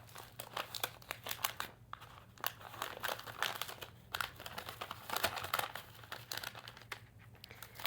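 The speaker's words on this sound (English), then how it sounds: "I'm gonna peel back one of the paper layers" Paper backing is peeled off a Steam-A-Seam fusible web sheet, giving a run of close, crisp crinkling and tearing rustles in short irregular bursts with brief pauses, no talking.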